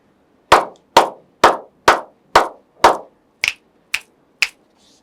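Six sharp, evenly spaced hand claps are followed by three lighter finger snaps, all close and distinct against silence, beaten out as tens and units for a classroom counting game.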